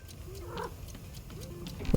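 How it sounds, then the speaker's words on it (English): A cat in the game Wanderstop gives a few faint, short meows, set apart from each other, against a quiet ambient background with light ticking. "Do I hear a cat?"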